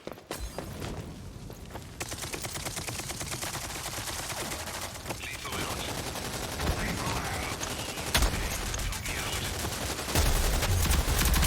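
Sustained automatic gunfire from the shooter game Rogue Company rattles continuously with dense rapid shots and a few heavier bursts, loud throughout with faint speech mixed in.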